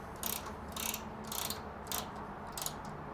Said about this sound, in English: just ratchet it back up